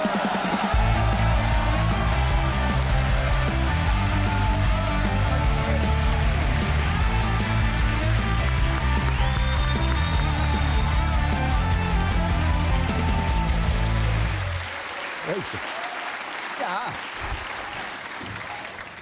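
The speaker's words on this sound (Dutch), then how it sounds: "Een staande ovatie van het RTL-publiek." A studio audience of a Dutch RTL television show gives a standing ovation, dense loud clapping that runs for about fourteen seconds before thinning out, with a brief voice and scattered talk over the tail.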